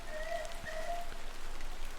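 Steady rain falls in the pixel-art video game Incantamentum, a soft continuous patter on surfaces near an isolated moorland village and station, faint and unbroken with a couple of brief tones over it and no talking.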